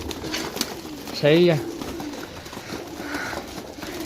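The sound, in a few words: pigeons cooing on a rooftop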